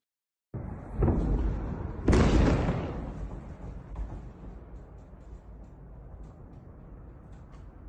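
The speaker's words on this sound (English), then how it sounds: "You can hear that explosion not too far away from their window, maybe a few hundred feet away" An explosion goes off a few hundred feet outside a window during wartime, a sharp loud blast preceded by a smaller thud, then a long rumbling decay.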